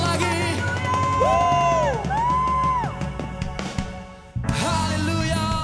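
Congregation at a youth church worship service cheering, whooping and shouting loudly for Jesus, a sustained crowd roar mixed with music and sung tones, briefly dropping near the end before surging again.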